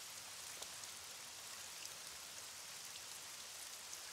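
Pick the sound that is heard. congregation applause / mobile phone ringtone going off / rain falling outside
rain falling outside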